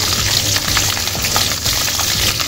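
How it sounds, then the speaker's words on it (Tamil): Cinnamon, cloves, cardamom, curry leaves and green chili fry in hot oil for a mutton masala, making a loud, continuous close-up sizzle and hiss with no voices. "நம்ம இப்போ இந்த பட்டை, லவங்கம், ஏலக்காய், கருவேப்பிலை எல்லாம் சேர்த்துக்குவோம்"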